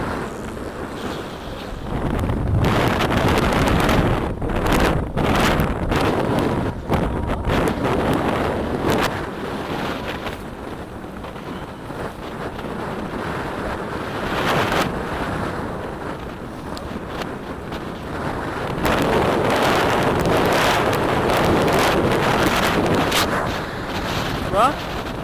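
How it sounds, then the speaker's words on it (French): Strong wind roars across a fishing boat at sea off Guyana, loud broadband gusts buffeting the microphone, with surging, uneven bursts of noise throughout. "Il y a le vent qui pousse tout."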